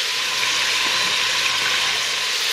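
Water pours into an Instant Pot holding seared pork, a continuous close splashing rush over lingering sizzle, steady and fairly loud with no voices.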